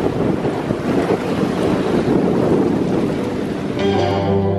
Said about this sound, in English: you can hear the sea and the wind generator